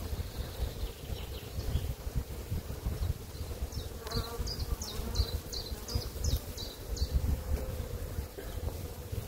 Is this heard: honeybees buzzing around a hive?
yes